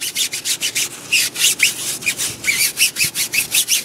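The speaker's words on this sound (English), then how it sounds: "I'll take my hard bristle brush first, and I'll scrub all that browning off the tire" A hard bristle brush scrubs a car tire in quick, rhythmic back-and-forth strokes, each a loud, close, scratchy swish with slight squeaks, and no voices.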